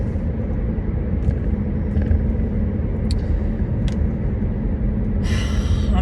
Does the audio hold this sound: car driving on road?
yes